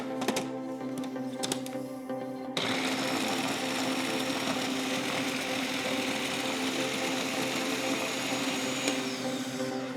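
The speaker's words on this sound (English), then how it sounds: "I'm gonna throw them in the food processor and process away" Food processor running on roasted tomatoes, a loud steady motor whir and chopping churn that starts after a brief quieter whirring and holds to the end, close and continuous with no talking.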